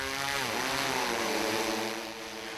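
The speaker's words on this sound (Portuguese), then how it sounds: "O drone que faz a pulverização é uma realidade e veio para somar com as outras práticas usadas nas propriedades cafeeiras." A crop-spraying drone flies over a coffee plantation, its propellers making a steady, loud, buzzing drone that stays even throughout and eases slightly near the end, with no voices.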